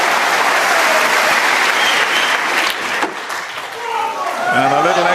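A snooker crowd at Alexandra Palace during the Masters applauds loudly and steadily. The clapping thins briefly partway through, and a commentator's voice comes in over the tail end.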